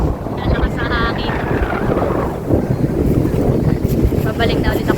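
Strong wind sweeps across Sulok Beach in General Nakar, Quezon, a loud continuous roar battering the microphone, with faint voices briefly audible beneath it.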